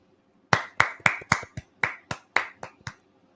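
About ten crisp, separate claps in a loose, quick rhythm from a small group or single pair of hands, close and distinct against a quiet background, fading out after a few seconds.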